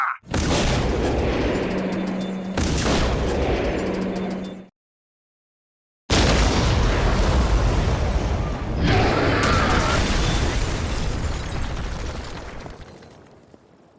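Artillery and explosions boom in the Warhammer 40,000 Dawn of War: Soulstorm game, loud heavy blasts in two bursts separated by a short silence, with rumbling tails.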